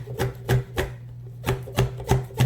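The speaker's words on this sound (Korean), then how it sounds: "5cm 곱게 썰어줄게요" A knife finely slicing bell pepper into thin strips on a cutting board, eight crisp evenly paced chops close up, with a faint steady hum underneath.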